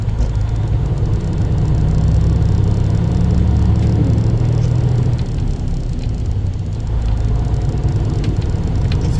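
Truck engine with a 10 speed Eaton Fuller transmission being double clutched through the gears, a steady loud diesel rumble and drone that dips briefly as the clutch goes in, then picks up smoothly again.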